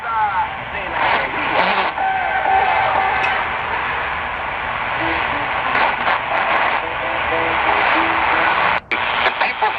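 A Tecsun PL 660 shortwave radio steps through stored presets, with bursts of static, squeals and fragments of broadcast voices switching abruptly, loud and close.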